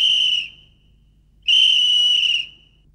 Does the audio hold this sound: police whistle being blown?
yes